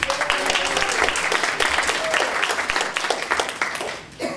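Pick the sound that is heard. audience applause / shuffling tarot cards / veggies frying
audience applause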